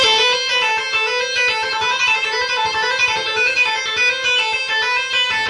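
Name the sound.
guitar playing six-note finger exercise pattern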